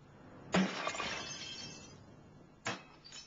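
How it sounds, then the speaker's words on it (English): Annealed glass shatters into shards in two sharp bursts, a loud crash followed by tinkling debris and then a second smaller break, with nothing else heard. "3M offered to demonstrate how easily annealed glass will shatter into deadly shards."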